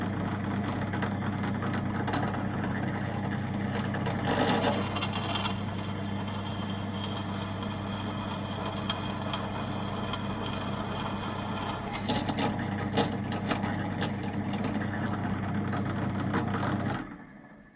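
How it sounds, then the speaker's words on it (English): A drill runs steadily through a clearance hole in a countersunk hole in a steel plate for a copper boiler build, a continuous motor whine with a few louder bursts of cutting, stopping abruptly near the end. "I'll drill the first clearance hole in the first countersunk hole"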